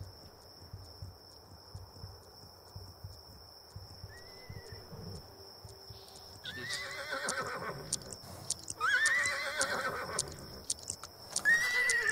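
A horse in a video game whinnies several times, with high wavering neighs sounding over soft hoof clip-clops and a steady high tone in the background.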